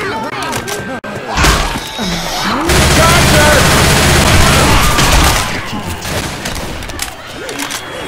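Dense, sustained game gunfire from Left 4 Dead 2 in The Passing campaign's Bleed Out mutation, a loud continuous barrage of shots and booms filling most of the stretch, with game voices calling out over it.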